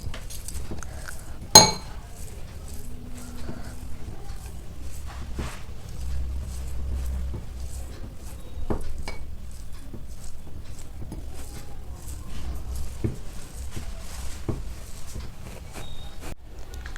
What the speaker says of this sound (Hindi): अब हम पनीर को मैश कर